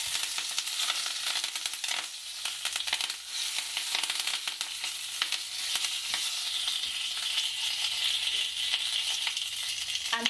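Curry leaves, mustard seeds and cumin seeds sizzle steadily in hot oil in a pan while making upma, a loud, dense, continuous frying hiss with faint crackles, heard close up and alone.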